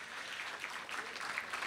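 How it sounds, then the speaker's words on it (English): Audience applause at a luncheon speaking event, a faint, even patter of many hands clapping continuously. "let's give him a round of applause"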